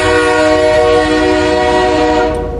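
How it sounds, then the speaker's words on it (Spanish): A train whistle blows as a steady, loud tone with stacked harmonics, sounding alone for nearly three seconds and fading slightly at the end, with faint rail rumble beneath. "emitió un silbido y las puertas se cerraron tras ella"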